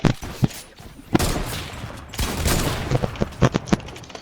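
Shotgun blasts from a video game ring out in sharp bursts, with several loud shots and echoing booms spread across the stretch amid dense gunfire.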